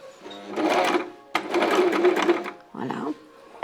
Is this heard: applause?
no